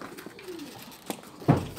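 Pigeons on a rooftop give a soft, low coo and a brief louder call near the end, faint against a quiet outdoor background.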